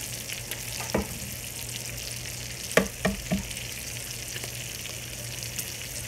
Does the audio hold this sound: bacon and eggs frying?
yes